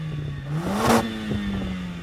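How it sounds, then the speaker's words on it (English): A Mercedes-AMG A-Class 2-litre engine gives a short rev from a steady idle, rising to a loud whining peak and easing back down within about two seconds, heard alone. "Let's compare the sound from these two 2-litre engines,"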